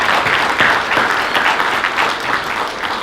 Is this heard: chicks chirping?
no